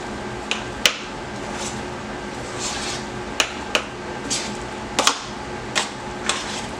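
A spoon stirs parmesan into mashed potatoes with garlic and butter in a metal pot, producing irregular sharp clinks against the pot over a soft, thick mushing sound.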